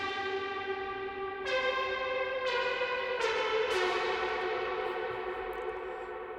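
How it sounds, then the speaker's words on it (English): Cheesy synth brass played on an AX73 synthesizer for a darkwave track: sustained, horn-like chord notes stacking in one after another, bright and echoing, with no talking. "Cheesy synth brass is going on with the AX73."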